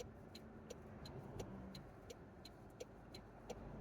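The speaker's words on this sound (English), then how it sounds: "I bet there's 20 cars coming." Cars pass along a curving highway near Alamogordo, New Mexico, heard from inside a moving vehicle as a steady road rumble, with a series of faint, brief whooshes from passing traffic.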